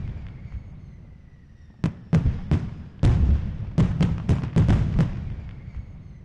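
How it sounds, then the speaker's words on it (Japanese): Fireworks bursting in the video game Otome-Break!, a series of sharp cracking explosions in uneven clusters, some close together, over a faint background hum. "花火とは五感で楽しむものだったのか"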